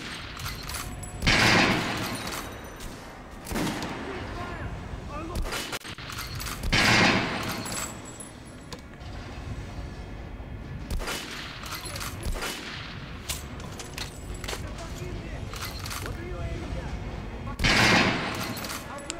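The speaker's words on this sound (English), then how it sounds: "this thing's a long range sniper rifle" A bolt-action sniper rifle fires in Metro: Last Light, with several loud, widely spaced shots rising over a busy background of ongoing battle sounds, and a voice talking through parts of it.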